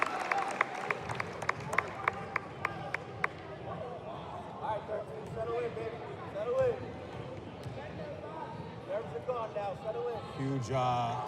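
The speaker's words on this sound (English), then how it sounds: "Huge Marcos cheering section next to us in the Mr. Murph seats as Somerville takes the lead by 1" At a high school boys basketball game, the crowd in the gym makes busy noise. Sneaker squeaks, ball bounces and a run of sharp claps lead into crowd babble and rising cheers, with voices mixed throughout.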